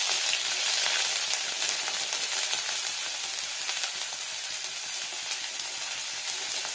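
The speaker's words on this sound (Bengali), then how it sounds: "দেখুন তেলটা হয়ে গেছে, আদাটা দিয়ে দিই।" Ginger frying in hot mustard oil for a cabbage dish, with a loud, dense, continuous hiss of sizzling close up that stays steady throughout.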